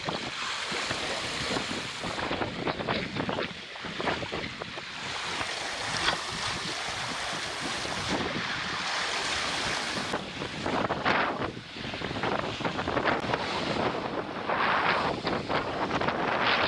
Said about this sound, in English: We're on a beam reach with huge scallops in our mainsail.